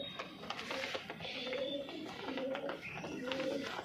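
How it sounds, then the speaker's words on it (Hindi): Punjabi Malwai pigeons coo softly in repeated throaty phrases, several coos in a row at close range, with faint background noise and no talk. "ये कालथरा कबूतर है जी।"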